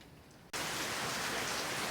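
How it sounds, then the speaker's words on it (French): Heavy evening rain pours down in Tahiti, a sudden dense wash of hiss that cuts in after a quiet moment and stays loud and steady. "On voit pas grand chose, mais ça pleut, ça pleut, ça pleut"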